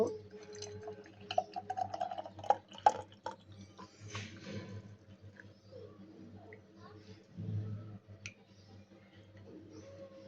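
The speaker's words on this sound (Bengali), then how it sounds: "কাচের জার নিয়েছি এবার জিলিটাকে ঢেলে দিব" Raw mango jelly, made without gelatin, poured into a clean glass jar in a home kitchen gives soft, quiet drips and wet trickles with a few small clinks, while a voice murmurs faintly in the background.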